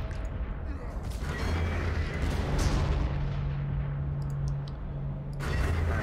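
Artillery fire and battle noise in Warhammer 40,000: Armageddon, a dense, continuous wall of booming and mechanical clatter with sharp crackling bursts near the start and end, loud throughout.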